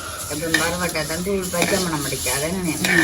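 Spices for Jaffna-style chili powder are roasted and stirred in a pan, with a continuous sizzling hiss and scraping under a voice that carries through.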